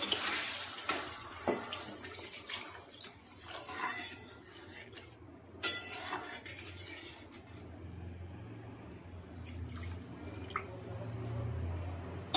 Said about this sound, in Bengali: এবার এতে পরিমাণ মতন জল দিয়ে দেবো।